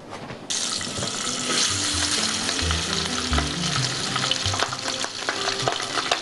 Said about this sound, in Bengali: এবার মাছটা ভাজতে হবে।